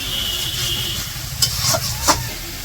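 Masala of chili powder, turmeric and salt frying in a pan while being stirred, a steady low sizzle with a few sharp scraping clicks of the spoon toward the end.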